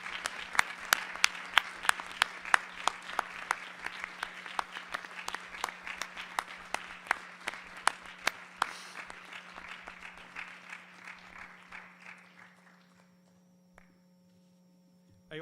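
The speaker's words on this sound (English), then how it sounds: "Let us give a huge round of applause to Brother Aravind." An audience gives a round of applause for a speaker at a spiritual discourse, starting strong with sharp individual claps and gradually thinning out to a few scattered claps over a steady mains hum.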